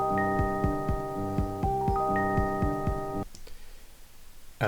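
A Teenage Engineering PO-33 drum pattern with a steady kick thumping under sustained tonal notes, looping for about three seconds before cutting off, followed by faint clicks.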